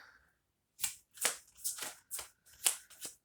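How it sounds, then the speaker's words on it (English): Tarot cards riffle and slap in quick bursts as they are shuffled and pulled, about six crisp, close flutters separated by short pauses. "I'll pull a couple more cards here."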